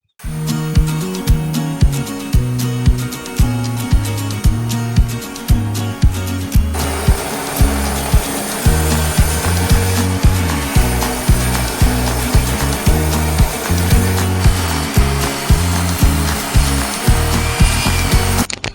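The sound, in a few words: table saw ripping wooden lumber boards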